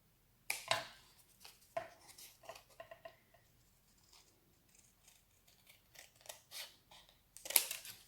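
Scissors cut along the fold of a folded paper card, giving a series of close, crisp snips and rustles with quiet gaps, the first and last cuts loudest.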